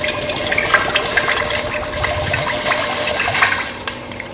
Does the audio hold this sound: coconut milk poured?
yes